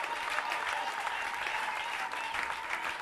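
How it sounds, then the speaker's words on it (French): Sustained applause from a church congregation praising the Lord, dense and even clapping that continues throughout without a break. "Donnons une acclamation au Seigneur."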